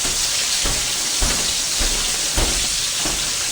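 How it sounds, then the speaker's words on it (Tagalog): Fish frying in a pan, a dense, steady sizzle and hiss with a few soft bumps, close and loud, no talking. "prito lang tayo ng isda, guys"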